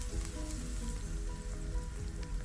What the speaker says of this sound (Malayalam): ഇനി ഇതിലേക്ക് 1 ടീസ്പൂൺ ജിഞ്ചർ ഗാർലിക് പേസ്റ്റും കൂടെ ചേർത്ത് ഒന്ന് നല്ലപോലെ വഴറ്റിയെടുക്കണം